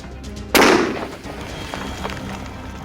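Gas is ignited in a rodent tunnel with a Rodentador, producing one loud, sharp blast that decays into a rumbling tail. Quieter outdoor background follows, with no talking.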